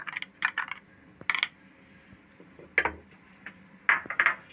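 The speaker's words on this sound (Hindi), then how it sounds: "अब मैं इसे अच्छी तरह से मैश करूंगी।" An egg burger mixture is mashed in a bowl, heard as bursts of sharp clinking and scraping of a utensil against the bowl, separated by short quiet gaps.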